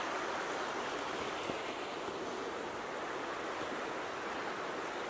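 Continuous rushing water from a flowing creek in Algonquin Park, a steady broadband wash with no voices, close and unbroken throughout.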